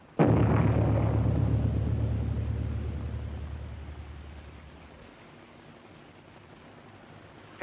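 A bomb blast from a 1930 aerial war film hits as one loud, deep explosion, then its heavy rumble slowly fades over several seconds until another burst starts at the very end.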